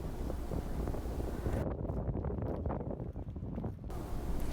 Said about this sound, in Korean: 이날 바람이 하루 종일 많이 불어서 하루 종일 추웠습니다